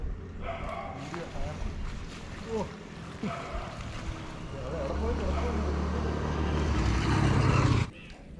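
A fishing boat's engine drones and grows louder as it draws nearer, with people talking over it and a busy waterside background.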